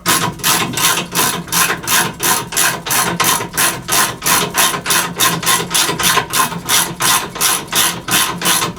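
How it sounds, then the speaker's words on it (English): Steady ratcheting clicks from a bolt being turned by hand while installing a NordicTrack elliptical incline motor, a loud, close, regular rhythm of about three clicks per second continuing throughout. "I'm basically just turning a bolt"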